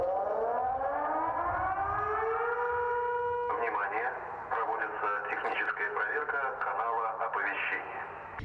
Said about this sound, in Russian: Уже через несколько минут раздалась учебная тревога.